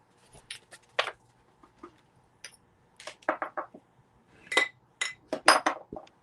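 Green glass salt and pepper shakers from a vintage Georgia set clink together in a quick series of bright, sharp taps. The taps come close by in irregular bursts and then cluster near the end, with no talk over them.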